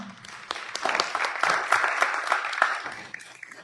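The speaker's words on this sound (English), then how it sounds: "One more round of applause for them." Audience applause for panelists at the close of an evening event on maternal care, a steady round of many hands clapping with crisp individual claps standing out, fairly near and sustained before tapering at the end.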